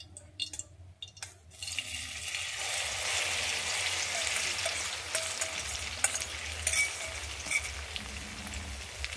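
Maggi noodles dropped into hot oil in a pan, a steady loud sizzle rising after a few brief clatters at the start and continuing evenly to the end, with no talking.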